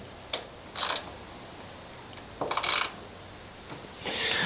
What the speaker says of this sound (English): I'm just going to loosen off these 10mm bolts.